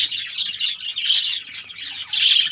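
Pet budgerigars in a breeding setup, a yellow hen among them, chirp and squawk in quick, busy bursts close by, with bright chatter swelling and dipping throughout and no talking.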